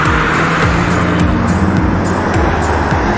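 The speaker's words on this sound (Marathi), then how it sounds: "ज्यादा गाड्या एक एक करून मार्गस्थ होत आहेत." MSRTC extra buses pull away one after another, their engines loud and close, revving and dropping in pitch with repeated gear changes over a constant traffic rumble.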